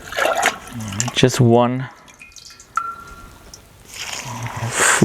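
A full measure of water is poured into a cooking mixture, producing close dripping, trickling liquid sounds between bursts of a man's speech.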